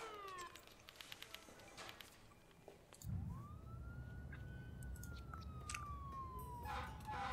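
A police car siren from the city-building game SimCity whoops and wails with rising and falling tones, layered over busy, dense city ambience and other game sounds.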